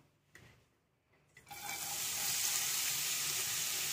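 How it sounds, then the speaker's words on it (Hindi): Cut raisins hit hot fat in a pan for carrot halwa, setting off a sudden loud, steady sizzle after a few faint clinks. "திராட்சையும் கட் பண்ணி வச்சிருக்கேன் அதை இதல போட்டு ஃப்ரை பண்ணி எடுத்துக்கறேன்"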